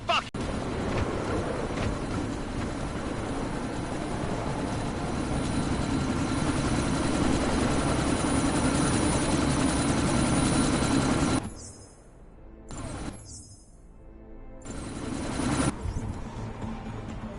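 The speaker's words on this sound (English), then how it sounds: "That chopper's about to take off!" Helicopter rotor and engine roar in a shooter video game as the chopper prepares to take off, a loud, continuous churning drone that suddenly drops away and returns in short bursts near the end.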